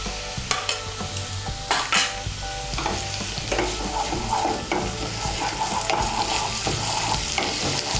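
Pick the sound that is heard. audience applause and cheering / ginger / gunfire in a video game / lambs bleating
ginger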